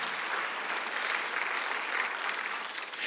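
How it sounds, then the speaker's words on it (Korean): A church congregation at a Sunday worship service claps together in a steady, dense round of applause, evenly sustained throughout. "박수 하나 더 해주세요."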